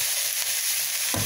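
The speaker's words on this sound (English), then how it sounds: "I add the noodles together with the chow mein" A continuous loud sizzle from noodles and pork stir-frying in a pan, ending with a thud as the contents are stirred.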